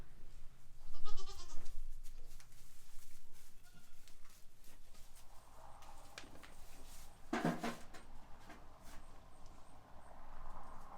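Nigerian goats bleat a few times, a loud nearby call early on and fainter calls later, with scattered rustling and clunks in the background.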